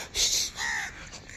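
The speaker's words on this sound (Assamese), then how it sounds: "কাউৰীও আহিছে মৰ্ণিং ৱাক কৰিব" A crow caws twice in quick succession, clear and fairly close, with no other sounds around it.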